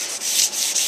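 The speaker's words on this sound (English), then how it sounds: "I've got some super fine sandpaper. This is 1200 grit. It doesn't really sand." Super fine 1200 grit sandpaper rubbing lightly over a surface to knock down nibs, a steady close hiss with gentle rhythmic strokes, heard alone.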